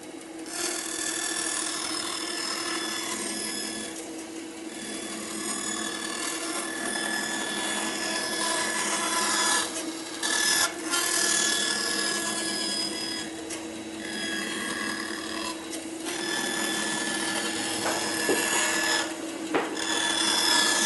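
A bandsaw fitted with a circle jig cuts a wooden circle, giving a steady blade whine under a rough rasping of wood that swells and eases as the workpiece turns, close and continuous with no talk.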